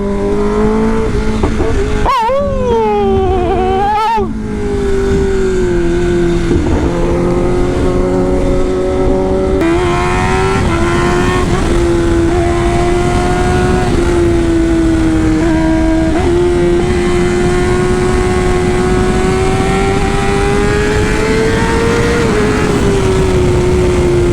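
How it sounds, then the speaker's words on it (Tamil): A 2023 Kawasaki ZX-10R sport motorcycle engine revs hard to redline, near and loud, its pitch shooting up in sharp bursts, then holding a strained, high, steady roar. "இந்த வண்டி ரெட் லைன் அடிக்குது பட்டுன்னு"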